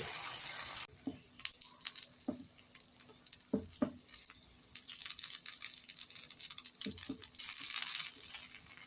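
Chettinad kara kuzhi paniyaram batter sizzling and frying in the pits of a paniyaram pan, a steady oily crackle broken by light scraping taps as the pieces are turned.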